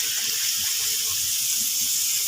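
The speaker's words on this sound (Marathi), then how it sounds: "छोटा एक ग्लास पाणी" A small glass of water poured into a pan of turmeric and chili for wheat-flour upma, making a steady, close splashing pour that lasts about two seconds with no voices.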